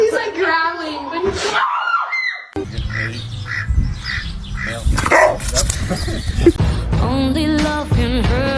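A golden retriever makes a series of rough, squawking vocal growls and bark-like yelps at close range, with breaks between bursts and possible voices mixed in.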